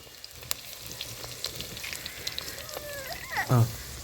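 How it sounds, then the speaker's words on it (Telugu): Cumin and mustard seeds crackle in hot oil, a steady frying hiss scattered with small pops, then a rising squeal and a louder burst near the end, cooking in a village kitchen. "జీలకర్ర ఆవాలు వేసుకుందాము"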